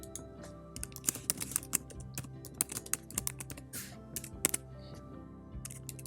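Rapid clicking keystrokes on a computer keyboard while testing input fields in Figma, an uneven run of crisp, close taps and clacks with brief pauses, heard alone without talk.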